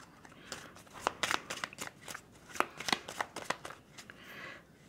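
A deck of oracle cards is shuffled by hand in quick irregular bursts of papery flicks and riffles, close and crisp, with no talking over it.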